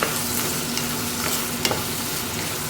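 Tomatoes fry in a pan with a dense crackling sizzle and occasional scraping stirs, close and steady, no one talking.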